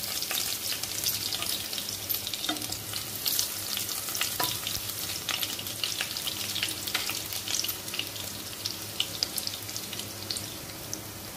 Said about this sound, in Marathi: हे बघा तेल तापलंय, त्यामध्ये मी आता हा चेचून घेतलेला लसूण आहे, बघा हा लसूण घालते।